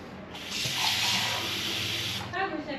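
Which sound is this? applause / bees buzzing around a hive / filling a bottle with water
filling a bottle with water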